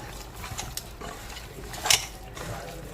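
Oil-free diet chicken is stirred in a pan, with soft scraping and clicking from the utensil and one sharp metallic clank partway through.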